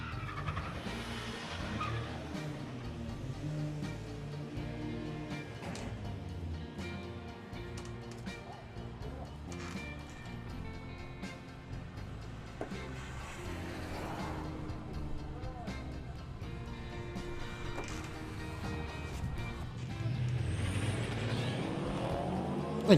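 Pair of Volkswagen Scirocco cars on the start line for drag racing at Santa Pod Raceway during Ultimate Street Car 2023, engines roaring steadily with tire noise and a louder surge toward the end.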